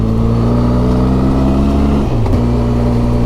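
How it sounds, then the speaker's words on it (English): A classic Morris Minor motors through narrow country lanes, its engine droning loud and steady and close by, with a brief dip in pitch partway through as it changes gear. "amazing Morris Minor there going through these lanes"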